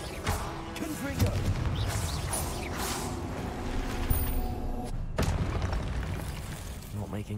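The Confringo blasting spell in the video game Hogwarts Legacy lands as loud booming bursts and crashes amid dense combat effects and game music, with a voice speaking over it.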